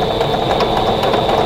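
A sewing machine stitches a vintage Turkey in the Straw quilt block, a steady close motor hum with faint, evenly spaced mechanical ticks running throughout.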